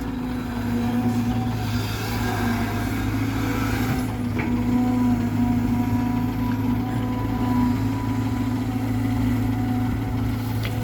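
A large vehicle's four-cylinder engine idles and runs with a steady low drone and droning hum, close and continuous, with faint clanks over it and no talking.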